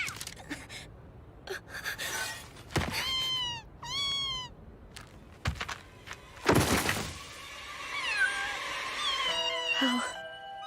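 A cat meows in an anime episode, several short tonal meows scattered among other sound effects and voices, moderately loud.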